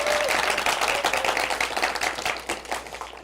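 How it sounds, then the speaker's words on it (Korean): An audience at a big data developer course project presentation gives a teacher a round of applause, a brisk burst of steady clapping that tapers slightly toward the end. "박수 한번."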